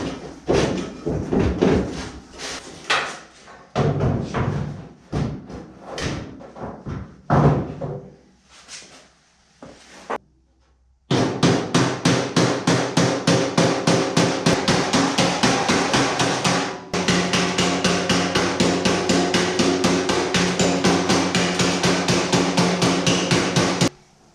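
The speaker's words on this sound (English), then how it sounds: "push it out, hammer it out so it's touching the sheet metal" Metal hammering on the inner flange of a 1930 Ford Model A Brookville Roadster body, pushing it out against the sheet metal: loud, close, ringing blows, first in irregular bursts with pauses, then long rapid steady runs of strikes.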